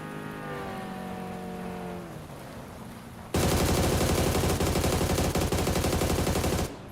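Dragunov rifle fire in the PUBG video game comes as a sudden loud, dense stretch of gunfire lasting about three seconds, preceded by steady rain-like ambience and a descending tonal game sound.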